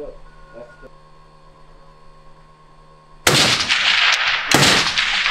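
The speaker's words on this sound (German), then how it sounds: "Treffer, schieß nochmal." Two loud rifle shots ring out at a long-range shooting event, each a sharp broadband crack with a ringing tail, the first at about three seconds and the second roughly a second later, after near silence.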